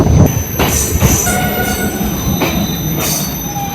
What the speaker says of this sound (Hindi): तो जी फाइनली 5 मिनट होल्ड के बाद गुड्स ट्रेन के क्रॉसिंग के बाद अपनी ट्रेन निकल चुकी सोनभद्र रेलवे स्टेशन से